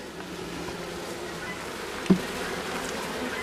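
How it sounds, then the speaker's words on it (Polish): Young honey bees flying around a hive with brood on a November day, a steady low buzzing hum close by, broken by one brief knock partway through. "Patrzmy jeszcze na te pszczoły."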